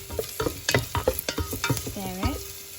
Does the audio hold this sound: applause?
no